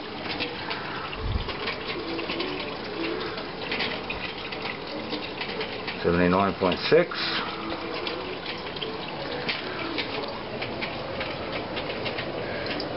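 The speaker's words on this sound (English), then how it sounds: "There we go, now we have the water running." Water runs steadily from a tap feeding a home spirits-distilling setup, giving a continuous close hiss and splash with a brief louder surge partway through.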